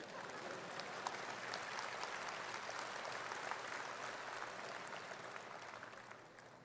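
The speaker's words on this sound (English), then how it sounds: "you can clap for that for sure" A commencement crowd claps during a keynote speech, a soft, continuous roll of many hands that stays fairly faint and even throughout before easing off slightly.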